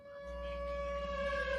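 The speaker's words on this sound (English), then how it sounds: "which locks itself, triggering the Asylum siren immediately." An asylum alarm siren starts with a steady, rising wail at a sustained tone. It is loud and continuous, with no voices over it.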